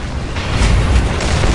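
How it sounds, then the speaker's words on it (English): A Space Marine jump pack in Dawn of War fires up with a short, loud whooshing thrust and low rumbling burst lasting under two seconds, heard alone. "Activating jump pack."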